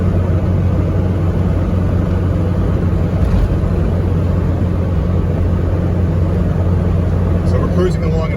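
A 1990 Range Rover Classic cruises at 60 mph in fourth gear, its engine and road noise a steady low rumble from inside the cabin while someone talks over it throughout.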